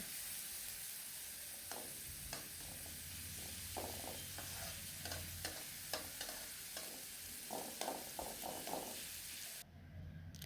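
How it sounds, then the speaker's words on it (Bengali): Chopped onions hitting hot oil in a pan and stirred, a continuous faint sizzle broken by repeated scraping spatula strokes in uneven rhythm, no voices. "পেঁয়াজ কুচি দিয়ে ভালোভাবে নেড়ে চেড়ে কিছুক্ষণ ভেজে নিতে হবে"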